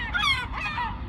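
Two harsh honks from birds sound close together and fairly loud, with nothing else heard around them.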